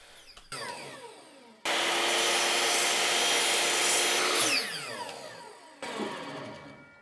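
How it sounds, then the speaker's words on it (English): Miter saw spinning up and biting through a cabinet panel to cut slots, a loud sustained whine for about three seconds that winds down, with a shorter burst of cutting after. "Using my miter saw to create these slots might not be the best way"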